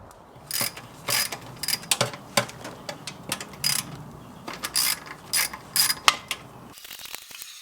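A ratchet loosens the 10 mm oil pan bolts on a Jeep JK in repeated short bursts of close, crisp clicking, separated by brief pauses.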